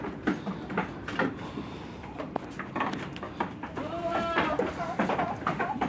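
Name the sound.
Anglo Nubian goats bleating on a farm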